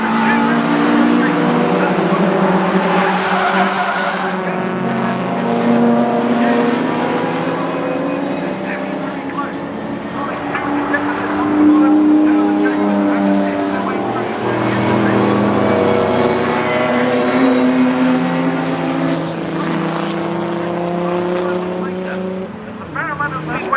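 Classic racing cars at the Oulton Park circuit, including Jaguars, with a continuous layered engine drone from several cars under steady commentary throughout.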